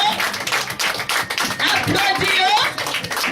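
A church congregation breaks into sustained, fairly loud group applause, the dense clapping continuing without pause while voices mingle in the background.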